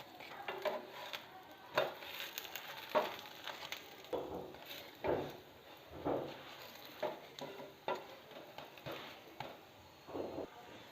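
Onion roti cooking in ghee on a pan gives a soft, low sizzle punctuated by repeated scraping and tapping of a spatula at close range.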